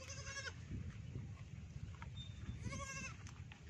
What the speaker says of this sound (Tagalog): Dito may mga alaga dito na kambing. Alagang kambing.